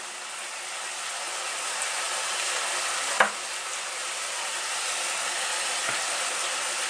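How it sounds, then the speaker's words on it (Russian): Meat with onion sizzles steadily in a frying pan, a continuous close hiss of frying with a brief clatter partway through. "А параллельно на соседней сковородке у нас жарится мясо с луком в этот момент."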